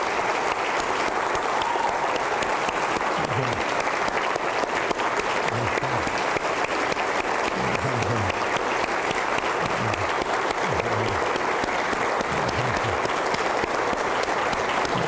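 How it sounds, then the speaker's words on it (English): A crowd at a city State of the City event gives first responders sustained, even applause, a thick, unbroken roar of clapping that holds steady for the whole stretch. "We need to give you guys a round of applause."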